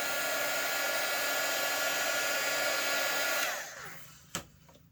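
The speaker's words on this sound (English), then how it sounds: "We're going to heat shrink one of these on." A heat gun blows steadily and loudly while shrinking heat-shrink tubing onto slot car wiring, then cuts off, leaving a quiet tail with a single sharp click.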